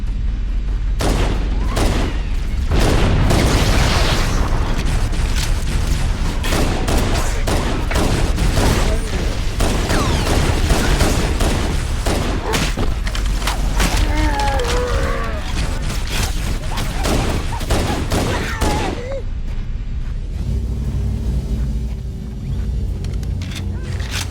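Loud, dense battle sound from Halo: Combat Evolved, with booming grenade blasts and rapid gunfire rolling almost continuously over a heavy low rumble.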